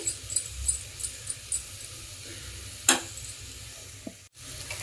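Tomato cooking down in a pan for a prawn tamarind curry, with a soft steady sizzle, light stirring scrapes, a sharper clatter near the middle and a brief dip in sound near the end.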